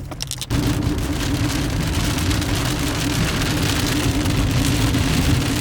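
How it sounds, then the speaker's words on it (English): Heavy rain pours down steadily, a dense constant hiss and patter close by, with no voices. "and it's raining."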